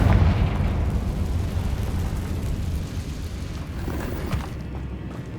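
A Confringo fire spell explosion in the Hogwarts Legacy video game, a loud blast followed by a long, crackling, rumbling roar that slowly fades, heard alone.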